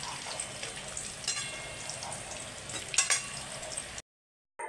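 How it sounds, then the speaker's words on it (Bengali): Dried red chilli and whole cumin seeds temper in hot oil with a steady close sizzle and some brief crackling spikes. The sound cuts to silence near the end. "আমি এবার ওই তেলের মধ্যেই একটা শুকনো লঙ্কা আর গোটা জিরে ফোড়ন দিলাম"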